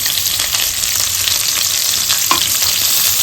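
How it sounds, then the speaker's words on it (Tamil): Sliced onions and green chillies frying with curry leaves in hot oil in a pan, a loud, continuous close sizzle with faint stirring scrapes and a brief clink partway through. "வெங்காயம் நல்லா வதங்கணும்."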